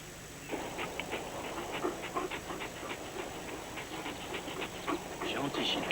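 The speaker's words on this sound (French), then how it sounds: "Gentil, chien, gentil." A military working dog pants steadily, with faint whimpers over a continuous background hum, in a French-dubbed war dog television film.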